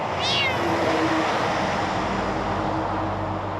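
A small, frightened rescued tabby kitten under twelve weeks old gives one clear meow near the start, set against a steady low rumble of roadway traffic throughout.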